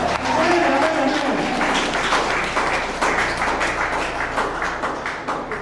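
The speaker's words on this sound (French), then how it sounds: "Acclamez pour cet enfant. Acclamez très fort." Loud, sustained applause from an audience at a church gathering, dense rapid clapping that fills the whole stretch and gradually softens toward the end, with a voice speaking over it at the start.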